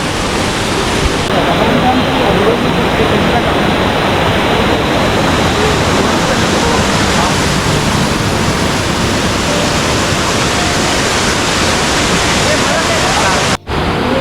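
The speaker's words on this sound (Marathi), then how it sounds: "या बाजूला आपल्याला एक धबधबा पाहायला मिळतो आहे" A forest waterfall in Andharban, Maharashtra, roars as a steady, loud broadband rush that runs unbroken nearly the whole time, with only a brief dip near the end.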